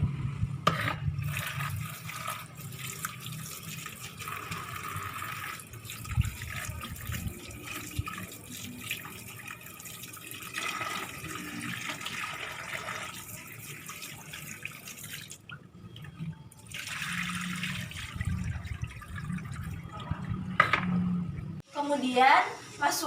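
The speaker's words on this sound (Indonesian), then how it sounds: "Selanjutnya, cuci singkong hingga bersih." Running water and splashing as cassava roots are washed clean in a sink, a steady close wash of water with handling noises throughout.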